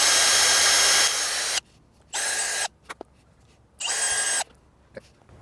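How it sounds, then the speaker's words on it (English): A power drill whirs in short bursts while drilling holes into the lower grille of a Subaru WRX STi: one long run, then two shorter high-pitched spins with small clicks between, loud and close. "I've got the 3 holes that I use my flange to guide, as a guide to drill into the lower grill here"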